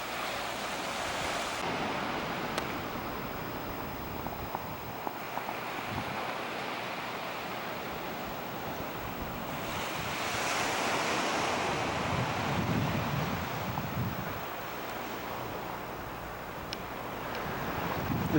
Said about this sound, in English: This is Beach Meadows Beach.